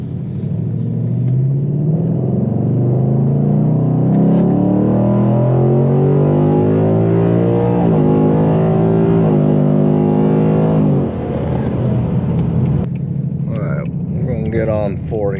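A stock 2028 GT car drives on the road, its engine droning and rising in pitch as it accelerates through a long pull, heard from inside the cabin with a voice talking briefly near the end.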